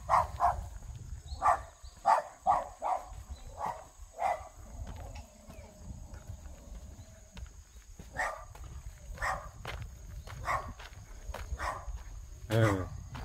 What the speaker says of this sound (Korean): 아따 뒷집 강아지가 엄청 찢어대네.